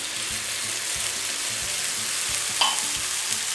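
Sardines frying in a pan while squash is cooked, giving a steady close sizzle throughout, with faint stirring clinks and low rhythmic knocks underneath.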